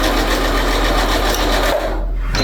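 A sewing machine runs steadily and loudly close by, stitching glue-basted pieces of a pixel quilt, with a continuous rapid mechanical whir that briefly dips near the end.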